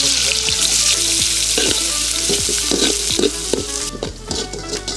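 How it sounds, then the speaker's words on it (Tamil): Cinnamon, fennel and onion fry in oil in a pan for village-style cooking, giving a steady, loud sizzle throughout with repeated scraping and clinking from stirring. "எண்ணெய் ஊற்றிக்கலாம். பட்டை சோம்பு வெங்காயம் போட்டுக்கலாம்."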